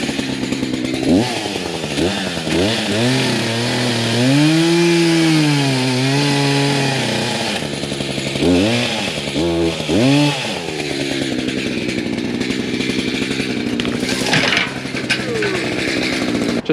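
A chainsaw runs steadily and loudly up close, its engine revving up and down in sweeping pitch changes as it bogs and climbs, with a brief louder rev near the end.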